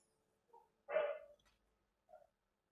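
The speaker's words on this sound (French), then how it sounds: "Je suis désolé si le chien vous casse les oreilles." A dog barks in a home, one loud sharp bark flanked by two short soft yips, each standing alone against near silence.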